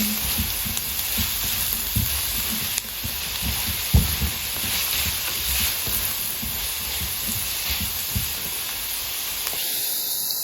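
Garlic sizzling and frying in a hot pan, a steady broadband hiss with faint stirring scrapes throughout, fairly close and alone without talk.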